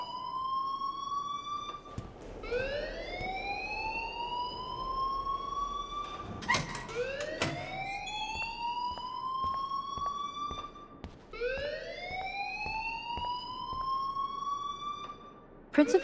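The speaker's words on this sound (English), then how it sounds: "please turn off that alarm since that's your job" A school alarm in the Life is Strange video game wails in long rising electronic sweeps, repeating three times loudly and alone, with a sharp clatter in between.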